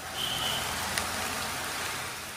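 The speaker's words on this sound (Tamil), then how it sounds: "இரண்டாவது நாளாக பெய்த கனமழையால் மக்களின் இயல்பு வாழ்க்கை பாதிக்கப்பட்டது" Heavy rain falls in Tamil Nadu on its second straight day, a steady, dense hiss of rain that holds evenly throughout, close and unbroken.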